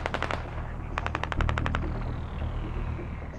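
Automatic gunfire from a BRDM-2L1 armoured vehicle during a milsim game, two rapid bursts of evenly spaced shots, the second longer, over a steady engine rumble.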